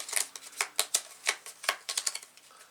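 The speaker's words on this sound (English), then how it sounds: "Let me shuffle up the cards" A deck of cards for the board game Final Girl being riffle-shuffled up close, a run of quick crisp flutters and snaps in irregular bursts, quiet and alone.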